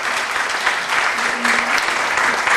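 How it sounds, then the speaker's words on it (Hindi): A large audience at a Hindi-Urdu mushaira poetry gathering breaks into loud, dense applause, a continuous roar of many hands that stays strong throughout. "मैं एक बार चाहती हूँ जोरदार तालियां आप सभी सुधी श्रोताओं के लिए"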